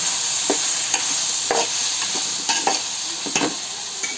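A spoon stirs brinjal tomato curry with kasuri methi in a sizzling pan, giving repeated close scraping strokes at an uneven rhythm over a continuous frying hiss.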